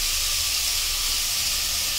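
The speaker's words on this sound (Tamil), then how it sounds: "நல்லா வெங்காயம் நல்லா வதங்கணும்." Onions with a little salt sauté in a pan as the base for a rohu fish curry made without coconut, sending up a continuous close, hissing sizzle.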